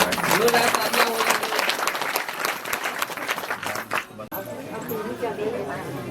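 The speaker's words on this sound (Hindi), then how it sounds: "जोरदार तालियां हो।" At a Bharia community social meeting in Bilanda, a gathered crowd claps loudly for about four seconds. The applause then breaks off abruptly, leaving murmuring voices and nearby talk.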